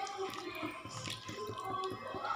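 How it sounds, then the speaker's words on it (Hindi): Water poured into a pan of palak paneer, giving a close, wet, bubbling and dripping sound that runs steadily through the moment. "तो इसमें मैं ये पूरा का पूरा पानी ऐड कर दूंगी।"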